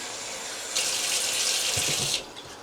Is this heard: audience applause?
no